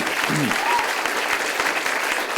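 Audience at a Belgian cdH party political speech breaks into loud, continuous applause, dense clapping filling the hall close and steady throughout, with a brief voice at the start.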